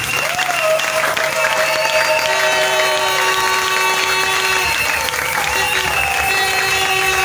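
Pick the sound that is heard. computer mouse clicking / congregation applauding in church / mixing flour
congregation applauding in church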